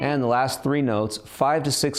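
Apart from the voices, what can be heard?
None of the usual background noises is heard.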